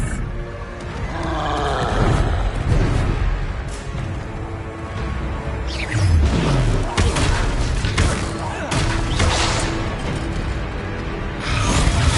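A troll in Hogwarts Legacy lets out deep, rumbling roars and growls that swell over several seconds amid crashing battle noise, loud and close, with voices speaking underneath.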